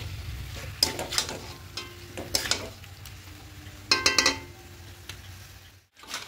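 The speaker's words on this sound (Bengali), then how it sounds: "এভাবে মিডিয়াম ফ্লেমে এরকম করে কষতে হবে।" Karahi chicken stirred and sautéed in a pan over a medium flame: a low steady sizzle punctuated by sharp metallic clinks and scrapes of the spatula against the pan, in irregular bursts.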